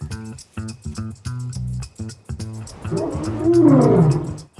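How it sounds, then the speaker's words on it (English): A lion at a zoo, the dominant male of a pride, lets out a loud, long roar: a run of short rhythmic grunts building into a sustained, powerful roar that swells toward the end, close and alone. "Wow, that roar's so loud. It's even bigger than the one before."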